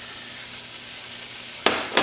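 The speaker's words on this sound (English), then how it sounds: "So we've got a large skillet heated up over medium high. To this we're going to add our 1 pound of ground meat." Ground meat, one pound, sizzles in a large skillet over medium-high heat, a steady broadband frying hiss with two sharp louder bursts near the end as the meat hits the pan.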